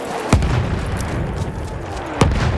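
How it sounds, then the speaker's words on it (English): Enemy artillery barrage in the Battlefield 1 video game, two heavy booms a couple of seconds apart over a constant rumbling battlefield background, no talking. "Wait for the enemy artillery barrage to stop firing."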